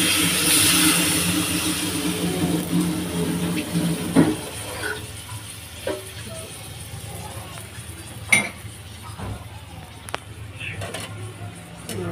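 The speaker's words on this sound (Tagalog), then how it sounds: "Tapos lagyan ko ng mga tubig." Water runs from a tap into a pot holding squash and fish, a steady pour that fades after a few seconds and gives way to scattered clinks and handling noises, with a voice talking.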